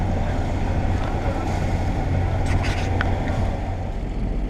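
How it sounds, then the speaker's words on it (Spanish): Sailboat motoring under engine power on a calm, windless day near La Gomera, with a steady low engine drone and water rushing past the hull, plus brief higher hiss and spray. "Pues vamos navegando a motor porque bueno, no hay viento."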